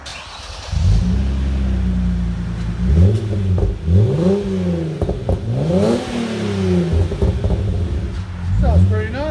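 A 2015 Hyundai Genesis 3.8 L coupe with a CNT dual exhaust revs repeatedly in loud, deep-toned rising and falling sweeps, heard close by with a voice talking over parts of it.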